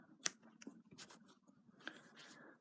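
Scissors snip wool yarn after a crochet Christmas star is finished, a few faint, quick clicks and snips close by in an otherwise quiet room.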